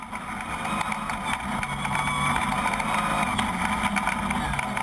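A Regent Racing Nissan Navara rally truck's engine roars steadily at a 2013 Nkomazi 400 off-road race, a continuous mid-pitched drone that swells slightly as it closes in.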